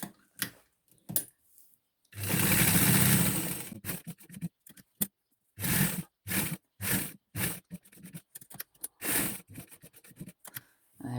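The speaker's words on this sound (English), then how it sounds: "you can see how she's just catching the liner material as she sews around the edge" A sewing machine stitches liner material around the edge of a washable fabric pad in short, stop-start bursts, with one longer continuous run early on, heard close and fairly quiet.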